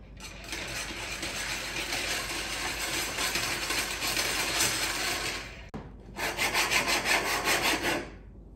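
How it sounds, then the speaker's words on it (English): Metal edges of a slinky scraped back and forth over painted wood, a steady loud rasping scrape that pauses briefly near the end before resuming. "I have my slinky and I'm gonna use the metal edges to scrape it off"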